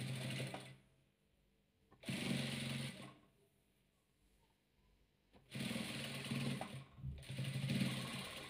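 Sewing machine stitching velour patchwork, three loud whirring runs of about a second to three seconds each, broken by quiet pauses, heard up close with no talking.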